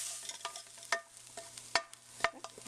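Onions being dropped into a soup pot and stirred for a rustic cabbage soup, with soft scraping clatters at intervals over a quiet, low sizzle, fairly close, no talking.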